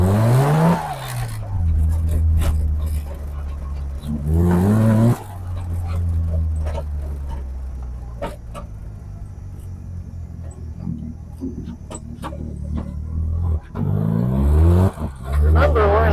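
First-generation Mazda RX-7 with an RX-8 six-speed transmission swap, driving in second gear: a buzzy rotary engine rises and falls in pitch through several revs, loud and near, with a person talking over it.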